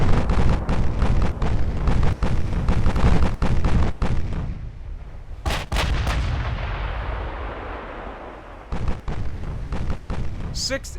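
Battleship main-gun fire in the naval game Ultimate Admiral Dreadnoughts, with heavy booming salvos and rumbling blasts, some sharp and close, fading into a long decaying roar before further shots, with a voice talking over parts of it.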